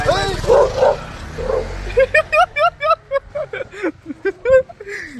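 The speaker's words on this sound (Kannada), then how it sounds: "ಆ ನಾಯಿ ಅಂದ್ರು ಅಟ್ಟಿಸ್ಕೊಂಡು ಹೋಗ್ತಾ ಇದೆ ಅವ್ರನ್ನಂತರು" A dog barks in a quick run of loud, close yaps and yips while chasing people, following a few seconds of people talking.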